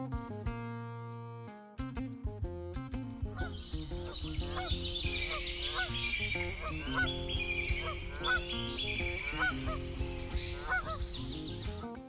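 A flock of flamingos at Lake Nakuru, Kenya, honks and gabbles in a busy, goose-like chorus, set against a continuous musical background with sustained tones and a steady beat.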